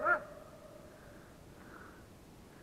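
A dog tied up on a leash at a taiga camp gives a single short bark near the start, then the scene falls quiet with faint background ambience.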